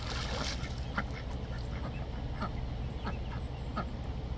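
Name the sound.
ducks quacking in their pond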